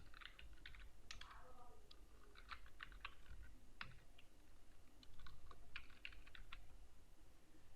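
Keystrokes on a computer keyboard, typed in short irregular bursts with brief pauses, close and fairly quiet against a low steady background.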